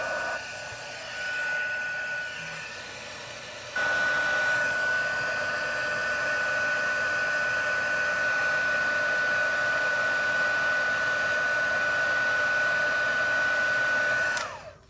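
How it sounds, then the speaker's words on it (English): A heat gun blows hot air over embossing powder on a Christmas card, a steady close whooshing roar with a faint whine that steps up in strength partway through and runs evenly until switched off. "Takes a minute for this heat gun to heat up."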